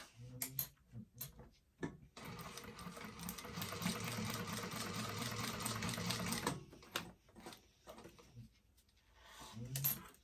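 A sewing machine tacks down the seam of a leather bifold wallet in one quiet, rapid, rattling run of stitches lasting about four seconds, framed by faint handling clicks and shuffling before and after.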